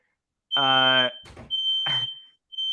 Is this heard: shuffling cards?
no